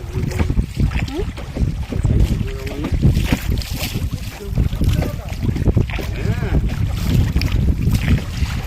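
Many boats collecting fuel crowd a river in the Sundarbans area, heard as rumbling, sloshing water and wind buffeting the microphone, close and continuous, with voices talking over it.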